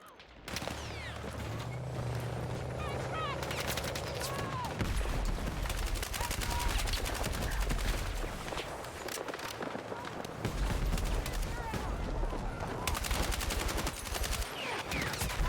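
Assault rifle gunfire in a video game: dense rapid bursts and fusillades of shots running continuously, loud and close, with game sound effects layered beneath.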